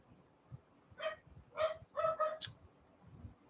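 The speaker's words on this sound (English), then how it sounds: "That dog is irritating me." Dog barking in the background of a live talk show, a few quick, somewhat muffled barks at moderate distance, with no talk over them.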